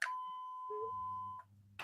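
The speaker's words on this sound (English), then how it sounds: "Finally, somebody else got beeped and not me." A censor beep bleeps out a word on a sports radio show, a single steady tone lasting over a second, followed by a low buzzing hum.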